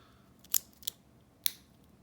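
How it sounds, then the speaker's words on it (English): A watch's micro-adjust clasp snapping shut: three crisp, close metallic clicks spaced unevenly over about a second, each sharp and brief against near silence. "press this down first and then click that into place"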